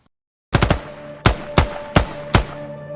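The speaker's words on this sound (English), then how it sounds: "Gunshots ringing out." A rapid burst of three gunshots is followed by four more evenly spaced shots, loud and sharp, each ringing out briefly.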